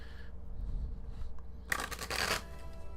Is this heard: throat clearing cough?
no